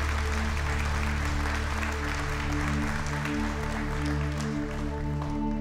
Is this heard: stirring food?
no